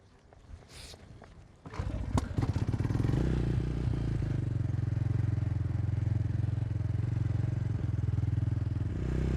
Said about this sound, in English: And just like that, you've got a running motorcycle